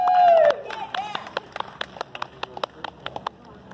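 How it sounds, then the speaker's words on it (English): Scattered hand claps from a small gathering at an outdoor vigil in Huntsville, Alabama, thanking a musician: a brief tone opens, then sparse, separate claps ring out irregularly and thin out. "So if y'all give her a round of applause."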